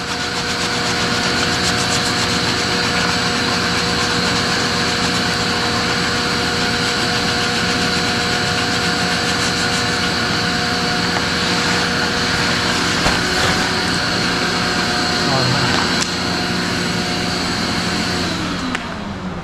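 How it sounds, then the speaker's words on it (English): A loud, steady mechanical drone with a constant motor whine continues without pause, a power tool sanding fiberglass gelcoat. "Now obviously you could use power tools as well."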